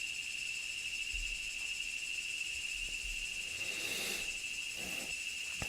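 Steady, dense cicada chorus drones continuously in the background, a sustained high-pitched buzz with no talk over it.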